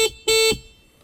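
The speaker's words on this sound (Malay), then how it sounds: "Sini horn" Two short electric horn beeps from a Modenas Kriss 110 motorcycle, a brief toot then a longer half-second blast, loud and close, with no talk.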